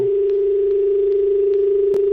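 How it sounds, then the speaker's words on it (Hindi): A steady, unbroken telephone dial tone sounds alone and loud on a live call-in line to a television sports programme after the caller disconnects. "शायद कॉल डिस्कनेक्ट हो गई"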